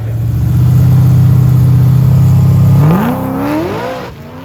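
A drag race car makes a pass down the track, its engine holding a loud, steady drone before climbing in pitch through a rising rev and then fading into the distance.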